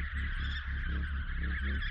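A dense, continuous chorus of bird squawks and honking calls from a flock of baby birds in the horror video game White Shadows, loud and steady with no talk.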